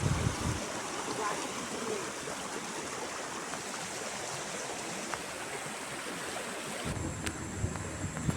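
River water flowing through green hills, a steady broadband rush close to the microphone, with light wind buffeting and no one speaking.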